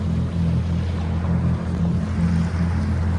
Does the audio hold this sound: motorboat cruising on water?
yes